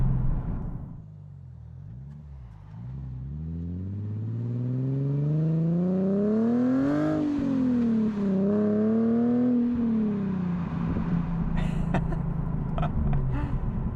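A Nissan 370Z engine revs through the gears with automatic rev matching, its pitch climbing and dipping in smooth sweeps as it accelerates, loud and close from inside the car, settling into a steady drone near the end.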